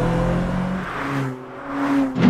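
A Lotus Elise sports car with about 240 horsepower accelerates, its engine note climbing, dropping back at a gear change, then rising again up close.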